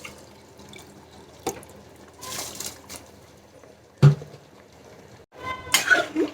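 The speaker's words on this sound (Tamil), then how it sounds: "இப்போ வந்து கழுவி வச்ச அரிசியை வந்து இதில் சேர்த்துக்கலாம்" Soaked, washed jeera samba rice goes into a pot of mutton biryani in a few wet splashes and watery pours, sharp bursts separated by quiet gaps, heard close with no talk.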